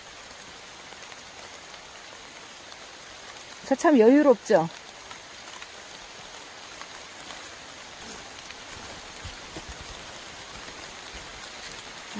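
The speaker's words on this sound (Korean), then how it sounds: "빗소리 자체는 참 좋으네요. 이렇게 지금 빗방울 떨어지고 있죠?" Steady rain falls on a rocky mountain trail descending Munsubong peak in Bukhansan, a constant soft hiss of drops throughout, with someone briefly speaking partway through.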